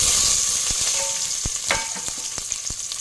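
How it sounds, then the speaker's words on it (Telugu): Eggplant and a pinch of cumin seeds fry in hot oil, giving a steady close sizzle with scattered pops and crackles that ease slightly over a few seconds. "నూనె హీట్ ఎక్కిన తర్వాత చిటికెడు జీలకర్ర, వంకాయలు ఫస్ట్ కింద వేసేసుకోవాలి."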